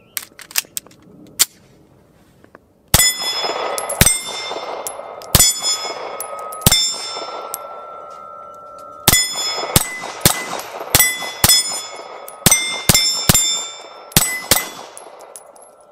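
CZ P01 pistol shots ring off steel targets outdoors, sharp cracks each followed by a long bright metallic ping; a few sparse shots open the clip, then a rapid string of hits, with no talking.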